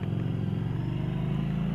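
A 2015 Harley-Davidson Street 750 motorcycle being ridden, its engine giving a steady, loud low rumble that holds evenly throughout with no talk over it.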